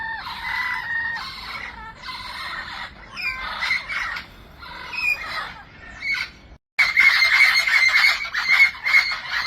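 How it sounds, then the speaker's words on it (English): Parrots in an aviary squawk loudly and continuously in harsh overlapping bursts, close and raucous, with a brief near-silent gap before the din returns even louder. "these parrots are really making a lot of noise"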